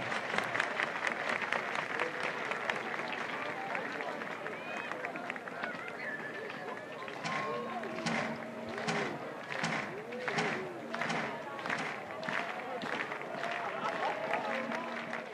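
A college baseball crowd at a Florida State versus Wake Forest game claps in a rhythmic, evenly spaced beat amid general stadium chatter, with a commentator talking over it.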